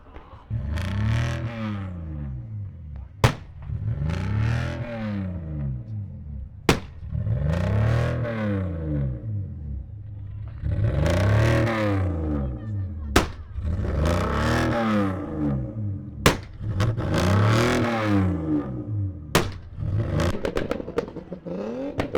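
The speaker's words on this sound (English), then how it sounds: "We're following the sounds of revving engines and exploding fuel that is shooting out of exhaust pipes" Utes rev their engines at the Deni Ute Muster, with repeated rising and falling engine revs in long waves and sharp exhaust bangs popping between them, loud and near, with no voices.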